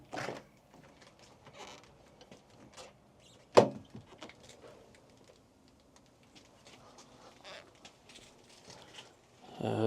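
A Toyota Tacoma truck door is opened during a wasp infestation removal, giving one sharp, loud clunk midway through, with faint rustling and handling noise before and after.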